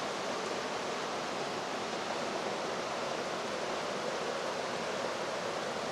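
A river in Tehipite Valley rushes steadily and fairly close by, a dense, unbroken wash of flowing water with no talk over it.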